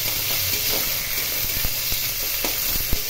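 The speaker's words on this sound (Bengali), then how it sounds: "পেঁয়াজগুলো একটু লাল করে ভেজে নিতে হবে" Chopped onions sizzle and fry in a hot pan for a soybean and jackfruit curry, a steady close crackling hiss with small pops and occasional stirring scrapes, no voices.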